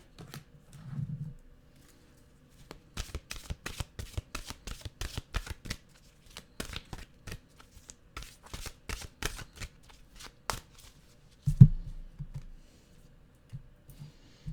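Oracle-style mantra cards are shuffled by hand in quick riffling bursts, a run of soft rapid flicks and taps repeated many times, close and fairly quiet with no talking.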